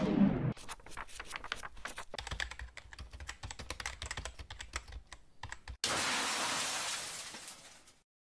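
Typing on an Elretron Penna red retro typewriter-style keyboard: a rapid, steady run of close, crisp key clacks with no voices, followed by a brief burst of broadband noise near the end.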